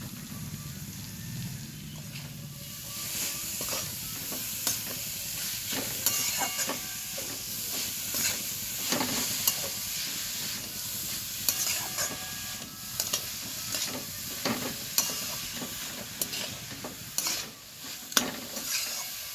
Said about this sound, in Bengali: মশলার মধ্যে বিট আর গাজরটা দেওয়ার পর আমি হালকা নাড়াচাড়া করে নিয়েছি।